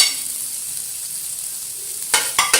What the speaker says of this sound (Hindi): हरी मिर्च मैं थोड़ी डाल रही हूँ क्योंकि हमारे घर में थोड़ी मिर्च खाई जाती है।